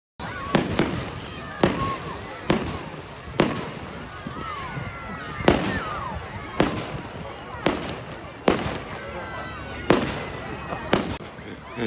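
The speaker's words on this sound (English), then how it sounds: "I'll turn you back to the fireworks" Bonfire night fireworks crack and boom outdoors in a steady series of loud sharp bursts about a second apart, each trailing into crackle and echo, with faint voices in the background.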